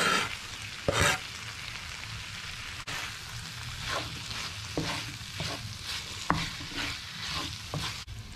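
Roughly chopped medium-sized potatoes tossed into a hot frying pan, giving a steady close sizzle broken by a few sharp clatters and scrapes as the pieces land and get stirred, with no talking.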